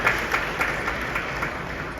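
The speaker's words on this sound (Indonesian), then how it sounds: "tepuk tangan dong untuk Pak Indra." Audience applause at a Bank Indonesia economic forum in Bali, a steady wash of many hands clapping at moderate volume with small swells throughout, heard without any talk over it.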